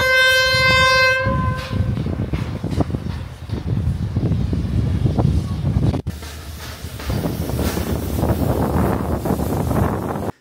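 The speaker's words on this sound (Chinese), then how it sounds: "蒸汽机车开过来了。" A steam locomotive on the Diaobingshan line in China passes close by, opening with a loud, sustained whistle before its heavy rumbling roll takes over, with steady wind buffeting the microphone throughout.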